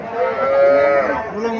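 A Sahiwal bull calf at a cattle market gives one close, loud, sustained moo that rises and then falls away, with faint crowd noise beneath it.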